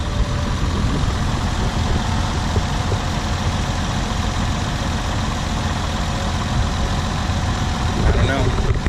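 A Nissan 300ZX engine drones steadily from inside the car on a test drive, a constant low rumble with road noise that rises slightly toward the end.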